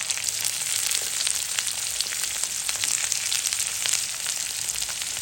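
Dried red chili, chopped garlic and onion fry in hot oil for a yardlong bean dish, giving a continuous bright close sizzle with faint crackles and no talk.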